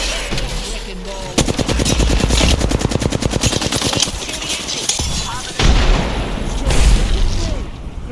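Gunfire and a grenade blast in the Apex Legends video game: rapid automatic bursts rattle loudly for several seconds, broken by heavy booming explosions, with game voice lines underneath.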